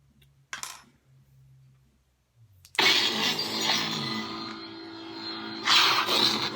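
A Sword Art Online–inspired lightsaber sound font ignites with a sharp burst, then hums loudly and steadily, its buzz swelling again near the end after a brief click earlier.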